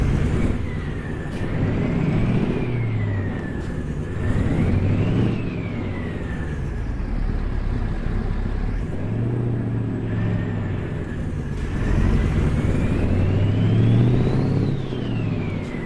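A heavy semi-truck engine in American Truck Simulator drones and revs in repeated waves, pitch rising and falling as it accelerates and shifts, loud and close with no talking.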